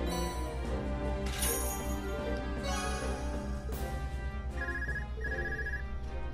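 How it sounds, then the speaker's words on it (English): Phone ringing in the video game Trails of Cold Steel III, a repeating electronic ring in short bursts heard over steady, loud game music with no talking. "we're also going to get a phone call"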